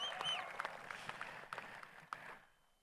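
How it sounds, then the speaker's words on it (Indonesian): Applause from an audience at the opening ceremony of an international festival and forum in Makassar: a faint, distant crowd clapping with a few louder individual claps, fading out toward the end. "tepuk tangan untuk kita semua"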